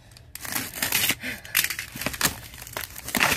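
A cardboard box is cut open with a sharp blade, producing close irregular crinkles, scrapes and tearing rasps in uneven bursts.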